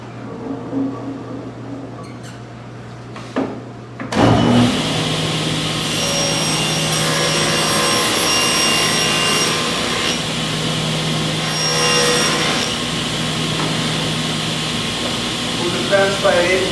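A table saw cuts along the edge of a wood veneer panel, starting abruptly into a loud, steady whine that holds for over ten seconds at close range, with a few quiet sounds beforehand.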